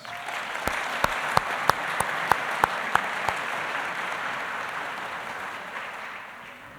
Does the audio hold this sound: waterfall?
no